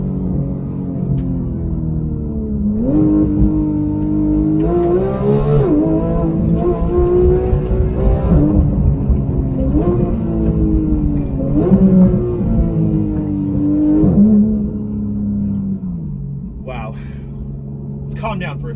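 A 2016 Porsche 911 GT3 with a PDK gearbox drives with a loud cabin engine drone that rises and falls through several revving pulls, ending on a lower idle-like rumble, with someone talking over it.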